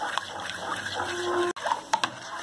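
Water trickles slowly and steadily into a gram flour and yogurt batter for kadhi pakoda, a soft close pour that breaks off briefly before resuming with a few splashy drips.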